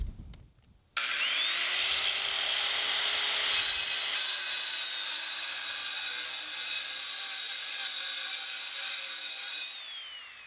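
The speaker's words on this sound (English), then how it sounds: "I'm gonna try that circular saw on its side, cutting this real quick" A circular saw held on its side cuts through concrete. The motor spins up after a second, holds a loud, steady whining grind for about eight seconds, then winds down.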